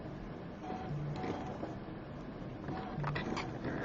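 Faint, steady mechanical whir and intermittent clicking of a ScanNCut machine cutting heat transfer vinyl, with small motor steps and soft taps, quiet and alone.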